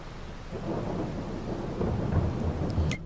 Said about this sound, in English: I'm hoping that rain stops soon here.